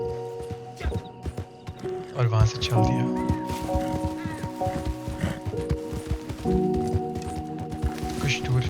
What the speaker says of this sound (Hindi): फिर मैं घोड़े पे बैठा